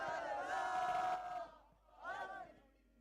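A massive arena crowd at a Valorant esports grand final roars and chants in unison, with a long swelling cry, then a brief lull before a second shorter surge of cheering.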